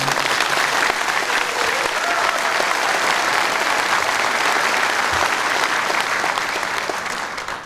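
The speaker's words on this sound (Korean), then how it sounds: "큰 박수 좀 부탁드립니다." A large crowd at a mayoral inauguration ceremony in Daejeon applauds in a loud, dense, continuous roar of clapping that holds steady for several seconds before easing slightly at the end.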